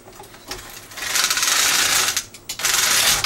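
Needles pushed back along the bed of a knitting machine give a close, rattling metallic slide in two long bursts, split by a short pause.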